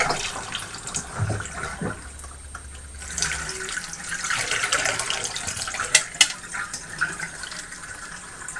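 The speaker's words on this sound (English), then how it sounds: "First thing I'm going to do is just turn on the water," Tap water runs into a tub while an Eheim 2213 aquarium canister filter is being cleaned, a steady close splashing flow with small knocks and clatters partway through.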